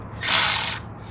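A ratchet works on an Eton Viper during disassembly, giving one short, close burst of fast metallic ratcheting clicks that swells and fades within about half a second.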